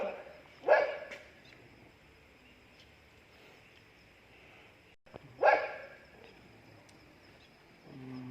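Dogs barking near the entrance of a school building, two sharp separate barks several seconds apart, loud against a quiet background with faint insect-like ambience in between.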